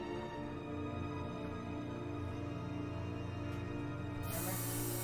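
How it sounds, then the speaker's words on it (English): An air freshener is sprayed in the game Batman: The Enemy Within, a short hissing burst near the end over a steady bed of tonal background music. "Come get the air freshener."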